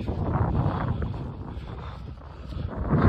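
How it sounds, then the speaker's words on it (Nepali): Wind gusting and buffeting the microphone outdoors on a fair-weather day during a 10 km weighted march, a steady broadband rumble that eases in the middle and swells again toward the end. "अहिले हावा पनि चल्दैछ"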